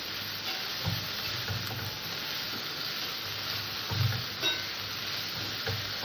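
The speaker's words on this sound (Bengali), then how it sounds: "এবার আমি মোচাটাকে সুন্দর করে কষে নেবো" Banana flower is sautéed with Kashmiri chili powder, turmeric and salt in a pan, a soft steady sizzle with occasional faint stirring scrapes, fairly quiet and close, no voices.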